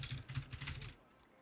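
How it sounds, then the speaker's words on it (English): Quick clatter of keys on a clunky, loud computer keyboard, a short run of close, rhythmic taps that stops abruptly and fades to quiet. "Usually my keyboard's like really clunky and loud."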